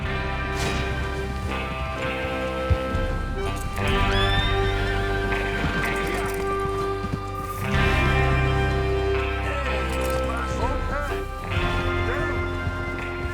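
Horses whinny and neigh repeatedly over steady hoofbeats in Red Dead Redemption 2, with voices talking throughout and a constant background bed underneath.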